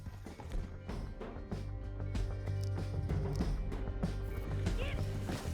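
Rapid hoofbeats of a galloping horse in the video game Red Dead Redemption, steady and fairly close, with rumbling background noise and a brief whinny.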